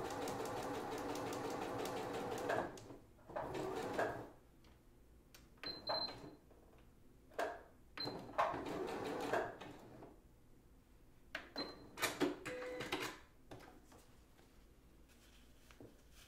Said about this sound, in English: now I'm going to sew these pieces together